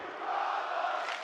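Stadium crowd at a Call of Duty League Major championship match, a sustained roar of cheering voices held steady and loud for just over a second.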